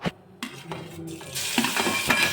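Ginger, chili and garlic paste hits hot oil with asafoetida in a pan, with a brief spoon clatter followed by a rising sizzle as it is stirred, close and fairly loud.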